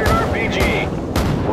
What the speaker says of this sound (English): Someone just fired an RPG!